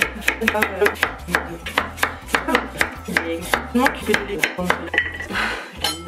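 Carrots being chopped with a knife on a board in a home kitchen, steady rapid thuds repeating throughout, close and fairly loud, with light clinks mixed in.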